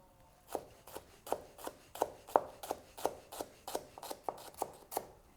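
A knife chops shallots on a wooden board, their root ends left on, striking about a dozen times in a steady, evenly spaced rhythm, crisp and close with no talking.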